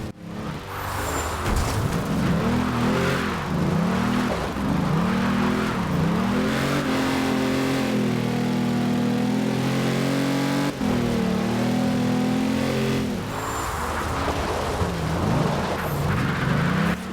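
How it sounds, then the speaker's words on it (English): A Mercedes-AMG G65 in Forza Horizon 2 revs hard and loud with its V12 engine note, rising and falling in repeated sweeps before holding a sustained high drone, then climbing again, with no talk over it. "G65, the other thing, because it is AMG, has one hell of a sound."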